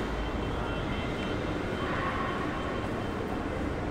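Steady rumbling train noise inside Milano Centrale railway station, a continuous low roar and hum of rail cars with station ambience and no talking.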